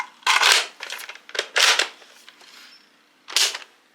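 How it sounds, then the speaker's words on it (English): A Nerf Fortnite HR blaster fires several times in quick succession, giving sharp close-up snaps and clacks with brief mechanical rattles between shots and a last shot after a short pause. "Okay, just fire it. Seems to be a pretty standard blaster."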